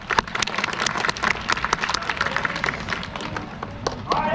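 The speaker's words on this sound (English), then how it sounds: "Give yourself a clap." Marvin the sea lion at Flamingo Land slapping its flippers together, a rapid run of sharp claps and thuds close by, with a voice speaking and crowd noise around it.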